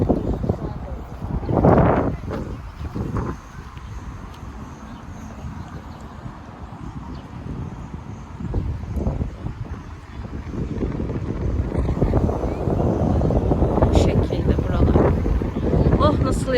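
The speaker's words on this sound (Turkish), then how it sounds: "esiyor, nasıl esiyor. Çok güzel esiyor." Wind blows gustily across an outdoor family picnic spot, buffeting the microphone with loud rumbling surges that swell and ease throughout, while people talk nearby.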